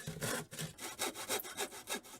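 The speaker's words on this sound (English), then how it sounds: "The next day we saw it in two pieces and made the sides." A hand saw cuts through a glued wooden box to split it in two, with close, loud, rhythmic back-and-forth strokes at about four per second and no talking.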